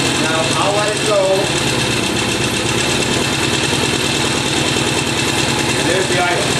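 A Norton motorcycle engine idles steadily and loud at close range, a fast even pulse slightly high in pitch, continuing without break throughout.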